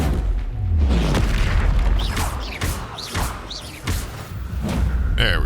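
Confringo fire spell in a wizarding video game, a run of deep booming blasts and thuds with crackling bursts, repeated several times in quick succession and loud up close.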